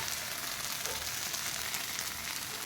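Bangude (mackerel) fish frying in a pan over a gas flame, a steady, even sizzle of hot oil that carries on without pause and with no voices.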